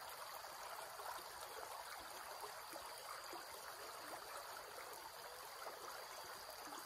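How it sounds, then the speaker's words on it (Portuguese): A small forest creek trickling and babbling close by, a soft continuous watery hiss with no other sounds. "Eu gosto de barulho de água,"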